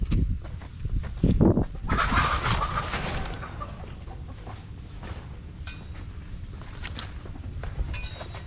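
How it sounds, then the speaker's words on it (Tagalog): Chickens clucking softly in the background amid rustling and scattered clinks, with a brief louder burst early on, outdoor farmyard ambience. "Dami pa lang mga manok dito."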